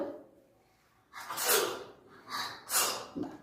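Second-grade schoolchildren in a classroom pretend to sneeze, with two or three breathy, explosive bursts after a quiet start, fairly close and moderately loud.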